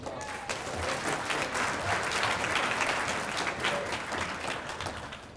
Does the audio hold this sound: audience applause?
yes